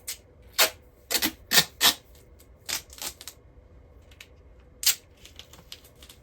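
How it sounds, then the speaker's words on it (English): Adhesive tape pulled off the roll and pressed down inside a closet in a mobile home, a series of sharp crackling rips and taps in short bursts, close and fairly loud with quiet gaps between. "Tape it down."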